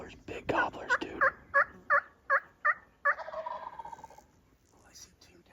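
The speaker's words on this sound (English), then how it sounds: "they're big gobblers" Wild turkey gobblers calling in spring woods, a rapid series of about eight sharp, rattling gobbles in quick rhythm, fairly close and clear, fading into quiet afterward.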